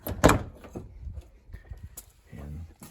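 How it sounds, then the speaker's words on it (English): Car door on an MK3 Toyota Supra opening with a sharp close latch clunk, followed by softer handling knocks and a light creak as the door swings, with a voice speaking briefly. "Open the door,"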